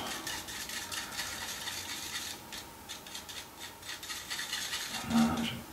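Tamiya model paint thinned with a drop of water is stirred in a small container, a soft, continuous close-up rubbing and scraping that rises briefly near the end with a faint clink, no talk.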